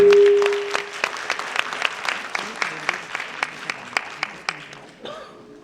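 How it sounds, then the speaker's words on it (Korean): A room full of people at a Rotary club seminar in Korea claps steadily, a dense burst of hand claps that keeps going for several seconds before thinning out. "박수로 맞아주시기 바랍니다"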